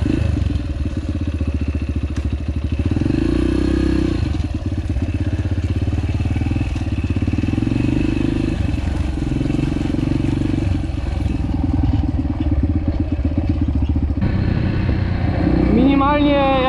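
A Yamaha TTR125 four-stroke dirt bike engine runs steadily up close, a fast, even idle with light valve clatter that holds throughout while a person talks over it.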